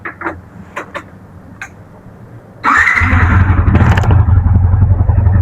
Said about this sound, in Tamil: ஸோ பைக்கை ஸ்டார்ட் பண்ணிட்டு